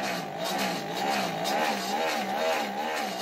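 A noisy homemade roller running continuously with a loud, steady mechanical drone that wavers rhythmically like an engine, close up and with no voices.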